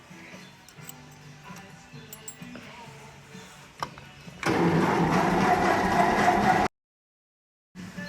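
A Ferguson TE20 tractor engine being cranked and caught after restoration: ticking and clicking at first, then a sudden loud, steady churning roar that runs for a couple of seconds, cuts out abruptly, and resumes briefly.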